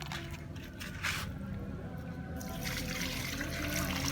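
Water poured from a container onto a cucumber plant growing in a polybag, a steady splashing, soaking trickle that runs the whole time and swells toward the end, close by with no talking.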